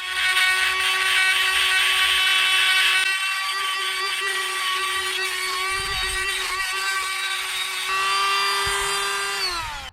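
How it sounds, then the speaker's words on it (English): A small die grinder cleans out a damaged crankshaft keyway on an FJ45, a loud, steady high-pitched whine that holds near constant for ten seconds, dipping slightly in pitch near the end. "We're just going to clean that out with a small little die grinder."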